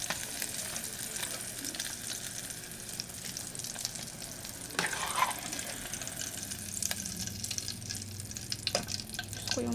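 An egg fries in a pan, a steady sizzle of hot oil with small crackles and occasional utensil clinks throughout.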